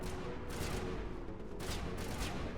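Shotgun fire in the video game Mass Effect 1, heard as several loud broadband blasts in quick succession over a dense, continuous game soundscape with no talk.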